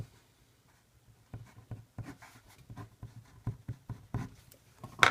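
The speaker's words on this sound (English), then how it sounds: "So again, I'm going to write those points down." A pen or pencil writes on paper, giving a run of short scratchy strokes and taps in an irregular rhythm after a quiet opening, close and fairly soft, with no voices.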